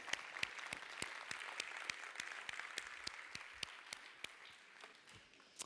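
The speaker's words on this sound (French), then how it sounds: "ça sera les premiers applaudissements du jour" Applause from a conference audience greeting a documentary filmmaker at a round-table session, fairly faint and distant, with individual claps distinctly spaced in a loose, sparse rhythm.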